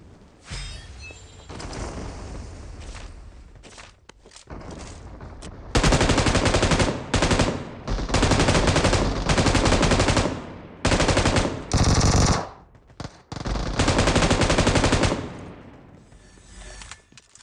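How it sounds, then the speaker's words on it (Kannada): Loud bursts of machine gun fire in a battle royale video game, several rapid automatic volleys separated by short gaps and growing denser toward the end, with no talk. "ಬಂದ ತಕ್ಷಣನೇ ಮೆಷಿನ್ ಗನ್ ಸಿಗುತ್ತೆ ಸಿಕ್ತವ್ರನ್ನೆಲ್ಲರೂ ಹೊಡಿತೀನಿ"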